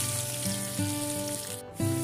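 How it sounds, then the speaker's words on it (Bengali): Potatoes frying in hot oil for a Bengali duck curry, a steady close sizzle with stirring and light clatter over a low electrical hum, no voices. "আলু কিন্তু আমি দিয়ে দিয়েছি সমস্ত আলু আর আলুগুলো খুব তাড়াতাড়ি ভাজা হয়ে গেছে"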